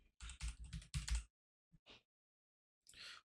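Quick bursts of typing on a computer keyboard, clustered keystrokes in the first second, then a couple of isolated taps and a final short flurry, close and quiet with no talk.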